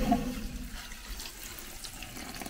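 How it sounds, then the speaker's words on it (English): Water draining from the discharge valve of a home sulfur-water treatment system, a faint, steady rushing and trickling flow with no talk over it. "Now this is the valve that lets water out of the system."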